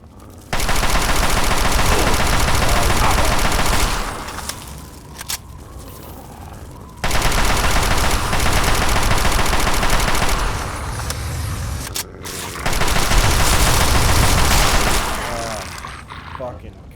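Sustained automatic fire from a 5.56 rifle in Fallout 3 rattles out in three long, loud bursts, with brief lulls of quieter mechanical noise between them.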